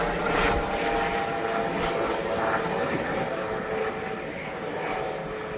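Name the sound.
helicopter flying overhead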